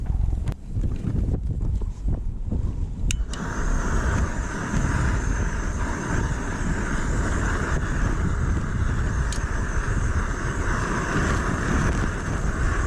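Storm wind buffeting a microphone at a wild camp on Bamford Edge during Storm Ellen, a loud continuous low roar with gusty surges and a few sharp knocks early on.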